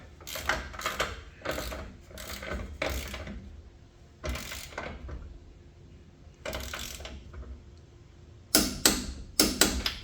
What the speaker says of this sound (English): And then we torque it to, I say, 50 Newton meters or 40 foot-pounds.